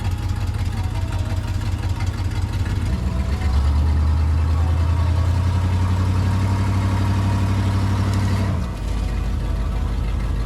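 A 1955 Buick Super with a barely working throttle pedal rumbles steadily while being driven in reverse. The engine rises in pitch partway through, holds, then drops back to a low idle.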